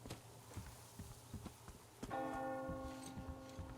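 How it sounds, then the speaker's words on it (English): A bell clangs once in Metro Exodus, its ringing tone sustaining and slowly fading over steady clip-clopping hoofbeats or footsteps. "Do you hear that bell?"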